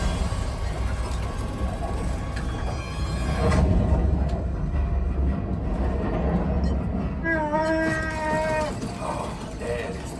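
Train rumble and rail noise inside the Millennium Falcon: Smugglers Run ride at Star Wars: Galaxy's Edge, a dense steady roar with a swell midway and faint tonal beeps near the end, voices talking over it.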